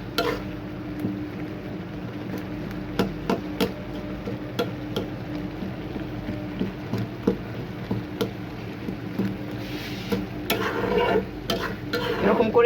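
A spatula stirs and mashes tomatoes in a pan while they soften into a chutney, giving steady scraping and soft tapping against the pan over a low sizzle, with a few sharper clicks near the end.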